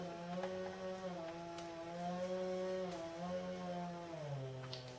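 A distant chainsaw milling logs drones faintly, its engine pitch rising and dipping as it bites into wood, steady and continuous.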